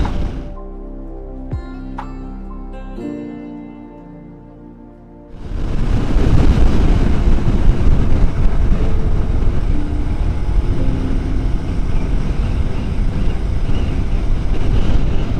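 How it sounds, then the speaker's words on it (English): Strong wind buffets a rider on a Hero Xpulse motorcycle on a Madhya Pradesh road. A quieter tonal hum gives way to a loud, roaring rush of wind noise that continues without letup. "Wind is terrible today. It's just pushing me all over the road."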